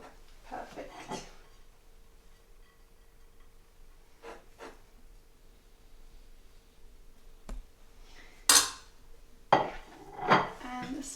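Dishes and cutlery clink and clatter in a home kitchen while rice and spinach are plated, a few sharp close knocks and scrapes scattered over otherwise quiet stretches.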